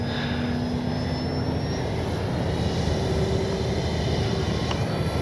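A Dynam DHC Beaver V2 radio-controlled plane drones steadily overhead on its maiden flight, a continuous buzzing motor hum with faint shifting whines, heard outdoors without speech.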